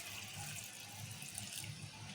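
Water is poured into a pot to boil cluster beans in a home kitchen, a soft, steady, continuous rush of liquid heard faintly throughout.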